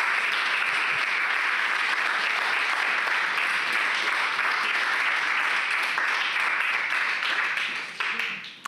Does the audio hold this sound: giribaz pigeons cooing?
no